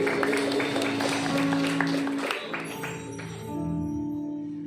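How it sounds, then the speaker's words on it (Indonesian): An audience at a church youth Christmas gathering applauds Kak Rahul, a committee chair, with dense clapping that thins out toward the end, followed by lingering tones from a sound system. "Tepuk tangan untuk Kak Rahul"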